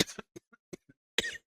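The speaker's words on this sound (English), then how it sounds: "That cough got me out of nowhere." A person coughs in a quick run of short, dry bursts that end in one stronger, harsher cough, all close to the microphone.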